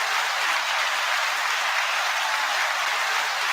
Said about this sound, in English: 9 second applause to you all.